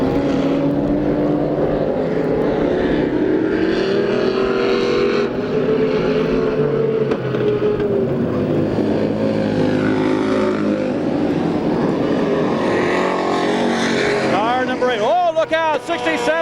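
IMCA stock cars race under green at the Adelanto, California dirt track, engines roaring and droning loudly as the pack passes, rising and falling pitches from multiple cars, with a commentator talking over the noise throughout.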